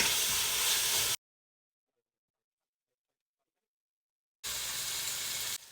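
Chopped peppers and onion sizzle in a hot pan with a steady, bright hiss for about a second. The sound cuts to near silence, then the sizzle returns just as loud near the end.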